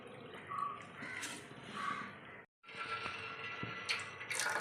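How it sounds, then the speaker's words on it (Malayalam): Cooked spinach is strained into another pot. Liquid pours and drips faintly at close range, broken by one brief silent gap. No voices are heard. "നമുക്കിത് അരിച്ച് വേറൊരു പാത്രത്തിലേക്ക് എടുക്കാം"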